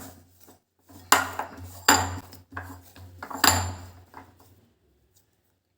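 Utensil scraping and clinking against a pan as cooled wheat-flour snack stuffing is stirred, a few sharp bursts of clatter separated by short pauses, fairly close and fading out near the end.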